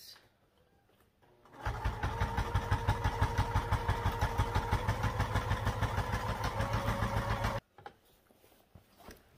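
A sewing machine runs a steady top-stitch along a bag seam, a fast even mechanical chatter lasting about six seconds between quiet pauses, close and clear with no talk.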